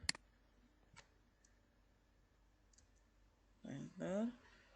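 A single sharp click of the enter key being pressed on a computer keyboard sounds near the start, followed by a faint tap, then a person briefly speaks at the end.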